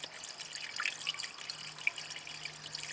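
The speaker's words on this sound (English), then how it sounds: "This is diesel fuel, and I'm pouring it in my engine." Diesel fuel trickles and gurgles steadily in a thin stream as it is poured into a 5.3 Firebird engine, quiet and close, with scattered small drips and no talking.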